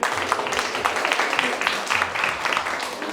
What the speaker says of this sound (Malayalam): മിസ്സിന് ഒരു സ്പെഷ്യൽ കൈയടി.